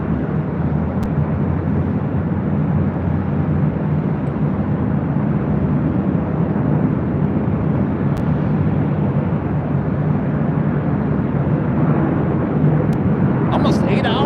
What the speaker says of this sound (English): the A380 Super coming up from London Heathrow